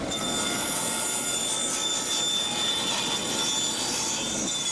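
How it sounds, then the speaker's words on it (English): A radial arm saw cuts wood with a loud, continuous high-pitched screeching whine and a rough grinding rasp underneath, sustained without a break. "We're going to take it over to the table or the radial arm saw,"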